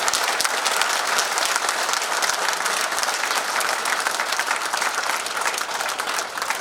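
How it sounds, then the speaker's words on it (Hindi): Sustained, dense applause from a large audience at a motivational talk, steady and loud throughout with no pause or voices on top. "अपने खुद के लिए एक बार तालियां बजाइए प्लीज"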